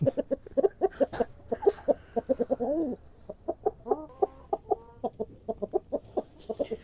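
Black Australorp chickens clucking in rapid, repeated bursts at close range on a small farm, with a few drawn-out calls mixed in and no speech.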